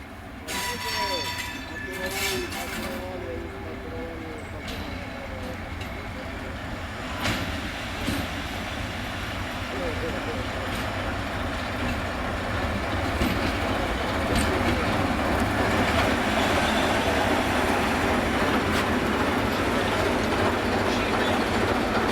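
A train runs along the main line to Košice in Slovakia, a steady rolling roar with rhythmic clickety-clack of wheels over rail joints and occasional squeals, building slightly louder through the run with no talk.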